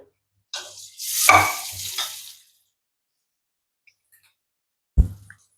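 A sharp burst of sizzling as colocasia leaves drop into hot tempering oil, hissing for over a second, then silence, followed by a brief second sizzle and stir.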